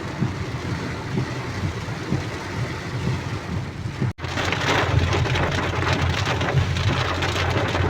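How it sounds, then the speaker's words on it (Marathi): Heavy monsoon rain pours steadily and loudly on a surface during a drive on a road, with a brief break partway through before the downpour returns even stronger. "लय पाऊस आहे"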